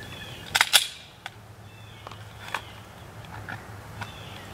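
Glock 17 pistol shots fired at close range, two sharp cracks in quick succession followed by a few fainter pops and clicks against a quiet outdoor background.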